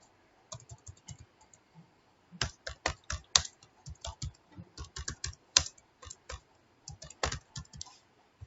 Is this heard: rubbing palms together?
no